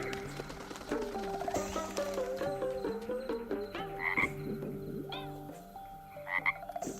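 Several frogs croak over a cartoon music score in an animated royal-court scene, the calls rising and falling in a steady chorus across the whole stretch with no voices.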